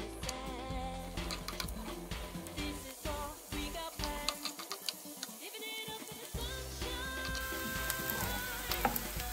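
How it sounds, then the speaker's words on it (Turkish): Vegetables, including carrots, sautéing in two spoons of olive oil in a pan, a steady sizzle with stirring clatter and scraping, fairly quiet, with a few brief pauses. "tavamıza 2 kaşık zeytinyağı koyarak kavurmaya başlayalım"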